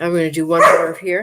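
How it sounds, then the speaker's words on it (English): A dog barks a few times close by, the barks mixed in with a person talking steadily in the foreground. "Oh, that's my dog."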